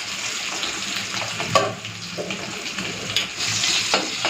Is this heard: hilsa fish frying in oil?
yes